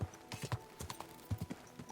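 A horse's hooves clip-clop on the ground in Kingdom Come: Deliverance II, an uneven series of close, dull thuds in quick bursts with a faint hum underneath and no talking.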